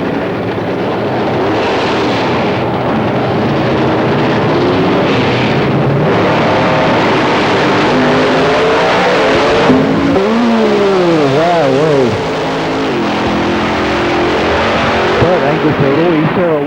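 Chevy Lumina race car at a 1995 drag racing shootout at Avon Park, loud engines roaring and revving with rising and falling pitch sweeps as cars accelerate down the strip, a continuous heavy engine roar with crowd and track noise throughout.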